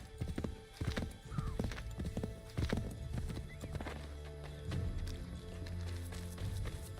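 Horse hooves clip-clopping at a trot in the Assassin's Creed III game, rhythmic close hoof strikes with a brief whinny partway through and faint game sounds behind.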